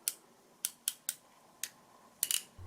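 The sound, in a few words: wire crimping clamp crimping ring connector onto wire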